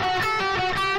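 Electric guitar plays a short blues lick with the fingering shifted one string lower, a steady sustained tone with a few picked note changes and a slight distorted edge, about one second long.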